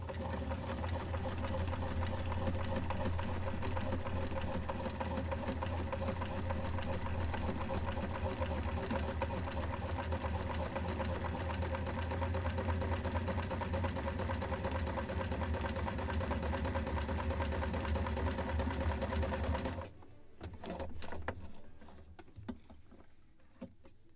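A sewing machine stitching seams on linings for a model lobster smack kit, a loud continuous rapid whirring run that stops abruptly, followed by a few quieter handling clicks.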